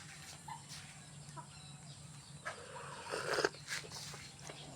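Native chickens are fed in a quiet rural yard, giving faint, scattered clucks against soft background noise, with a few brief louder bursts near the end.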